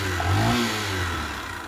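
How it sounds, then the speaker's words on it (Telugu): Honda motorcycle engine, a Shine or Unicorn in a village mechanic's shop, idling and briefly revving with a steady low drone that swells early then settles, close and fairly loud, no talking. "మెయిన్గా ఇంజన్ సౌండ్ అయితే వినండి"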